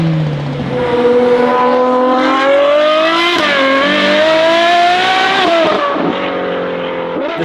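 Novitec Ferrari 812 N-Largo S with a naturally aspirated V12, loud and close, revving hard through rising howling pitch sweeps with a brief gear change, steady and sustained.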